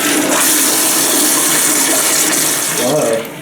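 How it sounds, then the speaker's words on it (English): Hotel toilet flushing in a La Quinta room in Plano, Texas, a loud close rushing whoosh of water that holds steady for a few seconds and then tapers off. "Here we have the toilet, which looks clean. We'll go ahead and flush it."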